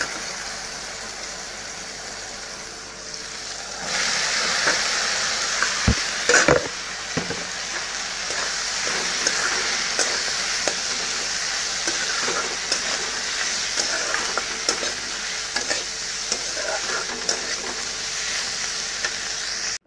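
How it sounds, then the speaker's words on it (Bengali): Tomato frying in oil for a dried fish chutney gives a continuous bright sizzle, with a few sharp clacks of a utensil stirring the pan. "আর তেলে টমেটো দিয়ে দিয়েছি একটু, টমেটো ভাজা ভাজা হয়ে গেলে আমি পেঁয়াজটা দিয়ে দেবো"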